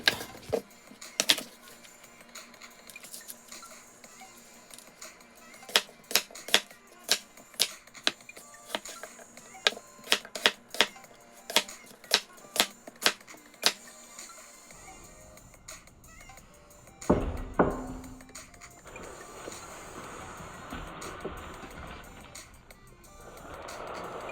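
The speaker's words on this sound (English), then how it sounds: "After washing it, just cut them up." A knife cuts up washed gala apples on a board in a series of crisp, close chopping taps at irregular intervals, with a louder clattering burst partway through.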